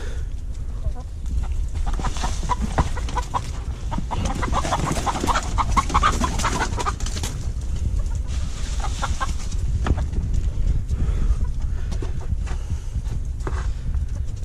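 Chickens cluck and murmur on and off over a steady low outdoor rumble, with a few louder bursts of clucking in the middle.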